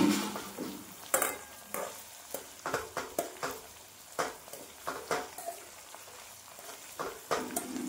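Hair oil ingredients sizzling and frying in oil in a pan over medium gas, with a steady faint crackle broken by repeated scraping stir strokes and clinks of a spoon against the pan.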